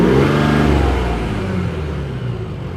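A car with a DPF-back exhaust of larger-diameter pipes and no mufflers revs loudly up close, a deep throaty roar that peaks early and then settles into a steady, slightly fading drone.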